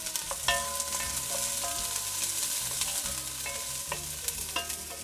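Onion for risotto sautéing in a pan: continuous sizzle with repeated spoon scrapes and taps against the pan as it is stirred, close and steady.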